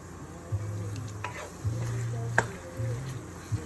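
Cheeseburger casserole filling frying in a pan on medium-high heat, a steady low sizzle with scraping stir strokes and a sharp utensil knock near the middle, close and moderately loud with no talk.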